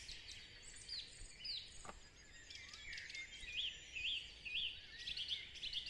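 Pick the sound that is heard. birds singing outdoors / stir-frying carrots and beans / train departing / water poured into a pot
birds singing outdoors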